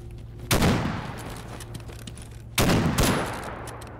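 Gunfire in the video game S.T.A.L.K.E.R. Anomaly G.A.M.M.A.: two loud, sharp gunshot bursts a couple of seconds apart, each with a booming decaying tail over a faint steady hum.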